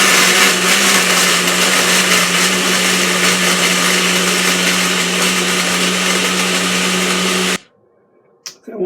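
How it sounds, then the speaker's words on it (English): A HadinEEon blender runs with a small 10-ounce tumbler attached, a loud steady high whirring drone that holds for about seven seconds, then cuts off abruptly into near silence. "so I'm going to blend it."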